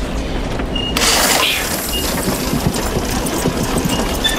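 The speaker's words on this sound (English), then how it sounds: "there's a little engine that makes these stones go around" Engine of a fictional flying machine that keeps spinning stones turning, a steady low mechanical rumble and whir with a brighter surge near the start, running continuously and fairly loud throughout.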